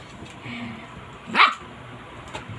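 A dog gives a single sharp bark near the microphone against quiet background noise, with faint yips around it.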